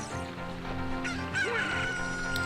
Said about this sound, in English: That chicken sounds a lot like a rooster, don't you think?